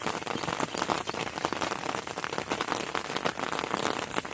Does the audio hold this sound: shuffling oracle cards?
no